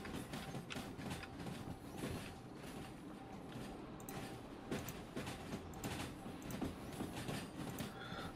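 A steam locomotive runs in the train simulator game Derail Valley, giving a steady, fairly quiet rolling rumble with faint rhythmic wheel clatter and no voices.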